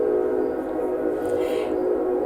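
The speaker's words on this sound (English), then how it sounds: "Hold on, I've got a train. I have my windows open" A train passes outside an open window, a steady loud rumbling drone with a faint horn-like tone rising midway, heard alone without talking.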